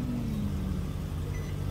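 A car engine with a partially clogged catalytic converter idles nearby, giving a steady, continuous low droning hum with no talk over it.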